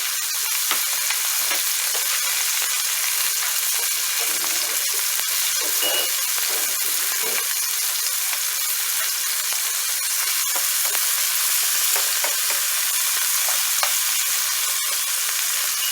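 Frog legs fry in oil in a pan, giving a loud, continuous, close-up sizzle with crackling pops, heard alone for several seconds.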